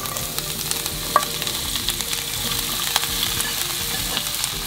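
Spring cabbage frying in a pan, a steady, dense sizzle with faint stirring scrapes and occasional pops, close and continuous with no voices.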